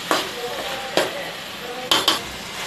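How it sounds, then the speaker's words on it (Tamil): Mixed vegetables stirred in hot oil for a South Indian kurma, a steady sizzle broken by three or four sharp scrapes of a spoon against the pan. "காய் வந்து அந்த எண்ணெய் கூட நல்லா மிக்ஸ் ஆகட்டும்."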